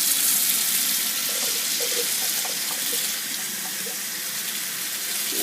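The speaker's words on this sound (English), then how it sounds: "I'm going to add some more water to it, rinse them out again" Tap water runs steadily into a jar of sprouts during rinsing, a continuous close hiss and splash with faint gurgles, moderately loud and steady, with no talking.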